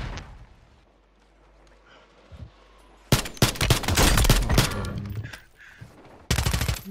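Call of Duty gunfire: after a few quiet seconds, a loud burst of rapid automatic shots rattles for about two seconds, then a second sharp burst of fire cuts in at the end.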